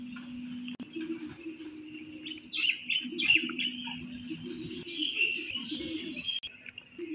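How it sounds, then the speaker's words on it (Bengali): Crows and other birds gather at a morning feeding spot where food has been put out, giving scattered chirps, tweets and soft coos over a faint steady hum, mid-distance, with no speech. "তোমরা দেখতেই পাচ্ছ কত রকমের পাখি এসে বসেছে।"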